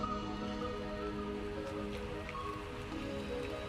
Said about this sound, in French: dehors il pleut